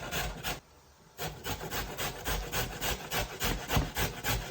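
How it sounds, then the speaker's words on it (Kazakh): Pumpkin being grated by hand on a grater, a steady run of rough rasping strokes close up, each scrape loud and evenly spaced after a brief pause near the start. "Мінекей асқабағымызды теркадан өткізіп алдық"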